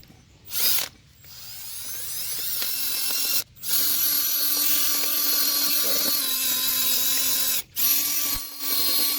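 A drill fitted with a wire wheel scrubs a car's front brake bracket on a 2009 Ford Taurus X, running in close, loud bursts of whirring and scraping, broken by a few short stops and restarts.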